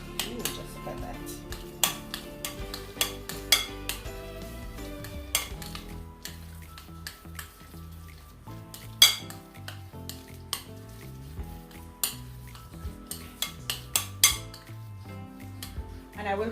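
Twice-baked potato filling is mixed in a bowl with a spoon, giving scattered clinks and soft scraping knocks under someone talking, close and moderately quiet.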